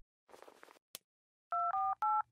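Telephone keypad dialing 911: three clear, loud dual-tone beeps in a quick even sequence after a short burst of rustling and a brief click, with no voices.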